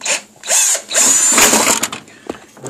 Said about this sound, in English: and drilling a hole